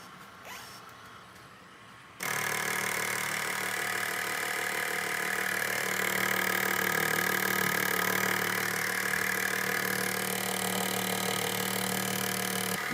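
A filament pelletizer's cutter and drive motor start up abruptly and keep running at a steady mechanical drone with a rapid chopping texture, loud and close, holding to the end.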